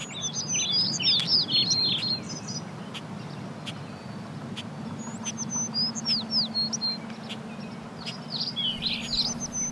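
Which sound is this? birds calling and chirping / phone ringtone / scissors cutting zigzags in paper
birds calling and chirping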